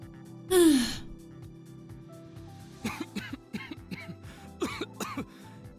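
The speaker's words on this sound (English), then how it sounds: "only to be interrupted by a cough. A very normal Terran-like cough." A single sharp, loud cough bursts out near the start, followed by a quieter stretch of small throat sounds and soft breathy clicks.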